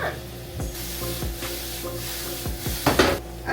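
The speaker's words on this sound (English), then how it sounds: "In the middle of sauteing, sweat these herbs so they're a little bit tender" Herbs sweating and sautéing in a pan give a steady soft sizzle, with a few sharp scrapes and clinks from stirring and a brief louder burst near the end.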